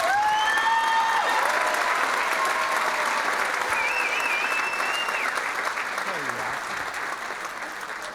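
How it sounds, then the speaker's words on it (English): At a Maid of Petroleum pageant, the crowd gives the contestants another round of applause, loud sustained clapping from many hands with faint whistles and scattered voices underneath, tapering slightly toward the end. "Let's have one more round of applause for these ladies."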